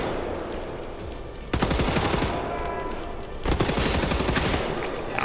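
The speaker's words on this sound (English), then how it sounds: "I heard gunfire, or possibly flechette fire" Loud video-game gunfire in Wolfenstein The New Order: two long bursts of rapid automatic shots with a short pause between them, close and dense.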